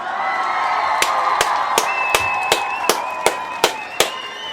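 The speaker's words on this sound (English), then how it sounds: "Want to give all the Ujima babies a round of applause." A crowd applauds and cheers for the Ujima babies, a steady wash of clapping with a bright whistle-like tone running through it and a regular series of sharp, loud cracks punctuating it roughly every third of a second.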